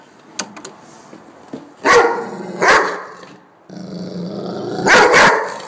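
A Doberman puppy barks and growls in several loud, close bursts, with sharp barks separated by rumbling growls across a few seconds.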